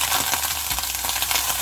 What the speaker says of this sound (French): Et je fais dorer les boulettes.